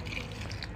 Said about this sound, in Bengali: এবার চাল ধোয়ার জল দিচ্ছি গাছে